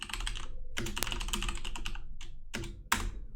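Fingers type in quick bursts on a computer keyboard, close and clear, with rapid key clicks broken by short pauses and a final firmer keystroke.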